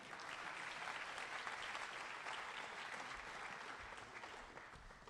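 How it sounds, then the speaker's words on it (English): An audience at a high school agricultural program spring banquet applauds the district competition team: dense, even clapping that holds steady for about five seconds before easing slightly at the end. "Please join me in giving them a round of applause."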